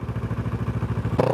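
A Kawasaki Versys 650 fitted with a Hurric Rac1 exhaust, baffles in, lets out a brief close, rapid engine pulse that climbs into a rev at the end.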